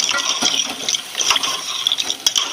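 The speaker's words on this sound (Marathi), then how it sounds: "गरम पाणी सुद्धा मी टाकत आहे" Hot water pours steadily into a pot of crab curry, a close bubbling splash with light clinks and rattles as it fills.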